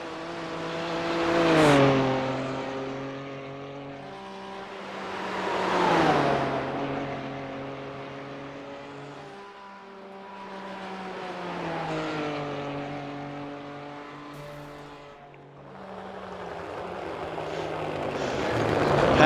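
GT3 race car lapping Bathurst in a racing video game, engine notes rising and falling through repeated gear changes and revs over about twenty seconds, loud and continuous with no talk.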